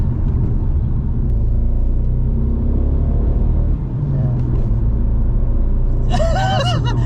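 An Alfa Mito Cloverleaf or Abarth 500 rumbles at a low, uneven drone with a misfire, steady inside the car for several seconds before someone briefly laughs near the end.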